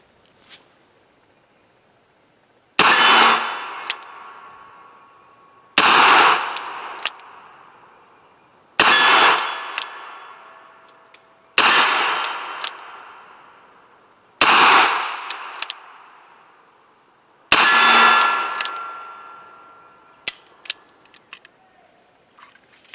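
A Smith & Wesson Governor revolver fired at a steel target: six loud, evenly spaced shots, each with a sharp crack followed by a long ringing decay, then a few faint clicks.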